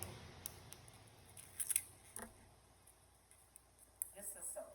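Scissors trim a strip of older, very wide tape, making several crisp close snips in small clusters against a quiet room with faint voices.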